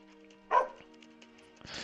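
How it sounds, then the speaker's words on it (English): Shibe, a dog in the video game Pom Gets Wi-Fi, lets out one short, fairly loud bark over a soft steady game tone, followed by a faint rustle. "This is the other dog that was in our house."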